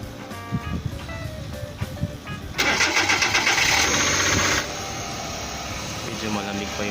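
A Suzuki Every DA64 van with a cold engine cranks and fires up. Talking and clatter come first, then a loud close start that settles into an idle.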